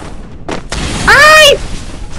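A sharp burst at the start, then a ringing, whining tone that bends and swells before cutting off, like a weapon firing amid background noise in a mobile shooter played on an iPhone 8 Plus.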